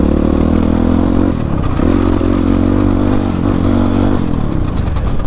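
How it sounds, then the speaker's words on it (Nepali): A dirt bike's engine drones loud and close with a steady low rumble and clattering while riding an offroad trail toward Topthumki, Morang, with a brief throttle dip midway before holding its pace. "जे होस् बाइकको साउन्डले नै कुदाउनु मजा आउने के अफरोडमा चाहिँ"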